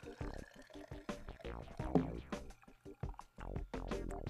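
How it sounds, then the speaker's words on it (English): Rainwater is poured through a funnel into a rain gauge, close up, making a gurgling, bubbling trickle whose tone shifts and rises as the narrow tube fills, with brief pauses in the flow. "We'll put the funnel on and pour our rain in."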